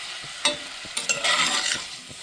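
Sliced yuca with salt is stirred in a pan, giving a few scraping, clattering strokes against the metal with a soft crackle and sizzle between them, close and with no talking.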